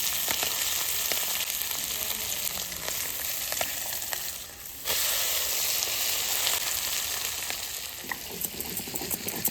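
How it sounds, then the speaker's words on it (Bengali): Fish and leafy greens frying in hot oil in a pan, a continuous bright sizzle with stirring clicks, loud and close, with a brief dip midway and no talk. "এদিকে আমার শাকও মাছও ভাজা হচ্ছে"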